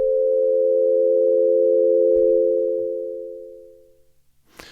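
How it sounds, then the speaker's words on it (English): Slow-attack Omnisphere synth pad built from sine waves, a smooth steady tone with stacked harmonics that holds for about four seconds, then fades away, with a faint click near the end. "So that gives us a nice slow sine wave sound there."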